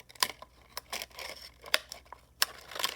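Scissors cutting around material for a chia person craft, giving several close, crisp snips and rustling crinkles in an uneven rhythm, with no speech.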